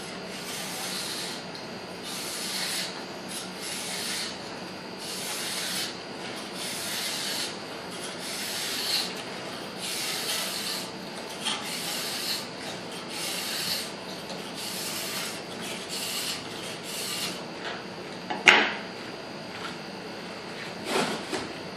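A racing file pulled along a ski's side edge in a guide, repeated rhythmic rasping strokes, steady and close, each lasting about a second with short pauses between, and a sharp click near the end.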